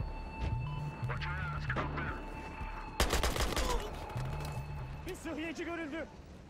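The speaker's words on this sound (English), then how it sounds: "letting the HK51 blast out a couple of shots at a time" An HK51 rifle in Battlefield Hardline fires a short, loud cluster of shots about midway, each burst only a couple of rounds, set against steady in-game background noise and brief voice-like sounds.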